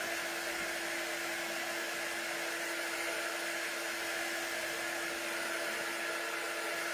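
A hair dryer blows air through a shirt to dry it, a steady close whooshing roar with a constant motor whine that holds unchanged the whole time.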